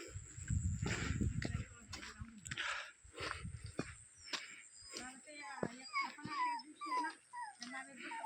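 A dog whimpers and yips in thin, rising whines on a wet, rough path beside a small river, close by, with footsteps and people talking.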